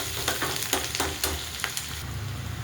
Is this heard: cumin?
yes